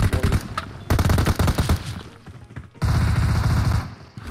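Rapid automatic gunfire in the PUBG battle royale video game, loud and close, with dense bursts of repeated shots, a brief lull, then another sustained volley.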